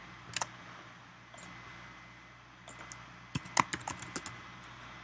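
Typing on a computer keyboard while working in Illustrator, a few sparse, close key clicks in short bursts over quiet room hum.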